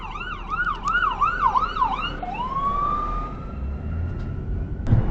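A loud emergency siren in New York yelps rapidly, then shifts into a long rising wail that fades off, with road noise underneath and a brief knock near the end.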